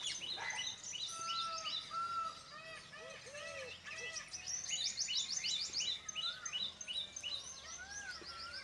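Birds call back and forth in an outdoor setting, a dense layered chorus of chirps, whistles and trills continuing throughout, with someone speaking over them.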